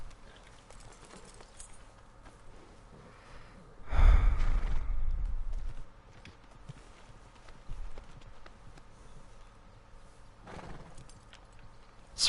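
A horse in the Red Dead Redemption 2 game gives a loud snorting whinny, then clopping hooves and softer snorts and breaths follow at a middle distance.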